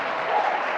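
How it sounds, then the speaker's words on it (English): Audience applause at an industry event, a brief burst of dense clapping from a crowd, close and steady with no voices over it. "a round of applause for that"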